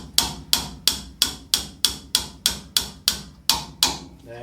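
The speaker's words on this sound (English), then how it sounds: "Then just with a small hammer, you don't need much pressure, you just knock it home." A small hammer taps a part home while rebuilding a common rail diesel injector: about eleven sharp, evenly spaced metallic knocks, close and fairly loud, each ringing briefly before the next.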